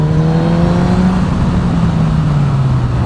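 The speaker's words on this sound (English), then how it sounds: "So a bit of hard acceleration and a bit of moderately heavy braking" A motorcycle on new tyres being scrubbed in, its engine droning steadily and loud throughout with rising harmonic tones under hard acceleration.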